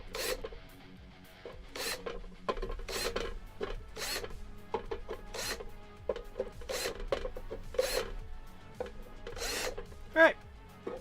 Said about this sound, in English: Chamfer the holes anyway.